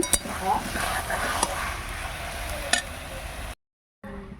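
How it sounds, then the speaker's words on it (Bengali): Vegetable curry being stirred in a pot, with a steady sizzle, a few clinks of utensil against metal, and the lid set back on near the end, followed by a short silence. "সবজিগুলো এখনও সিদ্ধ হয়নি একটু নাড়াচাড়া করে দেওয়ার জন্য ঢাকাটা খুললাম আবারও চাপা দিয়ে দিচ্ছি"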